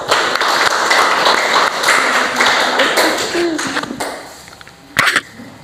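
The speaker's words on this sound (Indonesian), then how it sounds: "Kasih dulu tepuk tangan untuk kelompok 2." Classroom applause for group 2, a dense, sustained patter of many hands clapping for several seconds before thinning out, followed by a brief sharper burst near the end.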